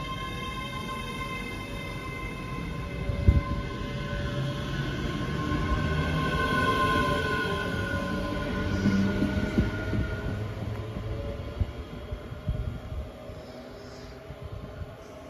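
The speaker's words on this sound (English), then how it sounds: "Departing out now is 1053 ScotRail service from Edinburgh Waverley to North Berwick." A ScotRail Class 385 passenger train pulling out of Wallyford station toward North Berwick, a steady electric whine with rising tonal hums over a rattling wheel-on-rail rumble, moderately close and fading slightly.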